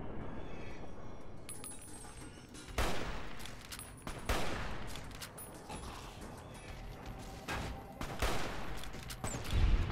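Gunfire during a firefight with a Nightkin in the video game Fallout: New Vegas: several sharp, loud shots at uneven intervals over a dense, steady rumble of combat noise, with no voices.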